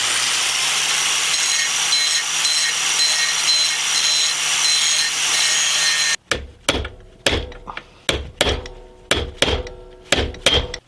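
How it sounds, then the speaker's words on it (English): An angle grinder grinds off the head of a pin on a factory motorcycle chain with a loud, continuous harsh whir. It stops abruptly, followed by a series of sharp, evenly spaced metallic hammer blows punching the pin out. "These factory chains, of course, they didn't make them really to remove, so you got to go ahead, grind off the head"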